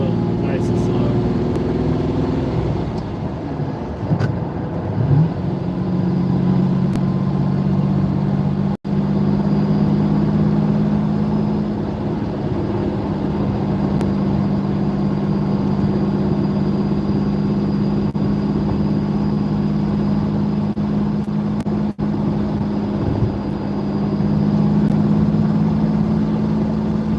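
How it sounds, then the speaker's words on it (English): A Lamborghini Countach engine idling while warming up, a steady low droning hum with faint mechanical ticks, a couple of brief revs rising in pitch early on, then settling into an even idle. "It'll probably take us almost 10 minutes to get the car warmed up."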